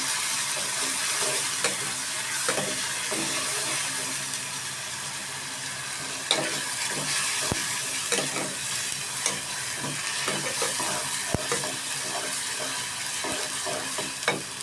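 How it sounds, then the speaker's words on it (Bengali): Onion paste sizzles in a frying pan while a spoon stirs it, producing continuous frying hiss broken by repeated scraping strokes and occasional sharp clicks of utensil against pan, close and steady with no talking. "দুই চা চামচ পেঁয়াজ বাটা আবারও ভালোভাবে নাড়তে থাকবো"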